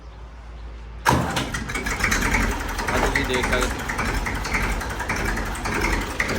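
A Massey 35 tractor engine cranks and catches about a second in, then settles into a loud, steady diesel idle that runs to the end while someone talks over it.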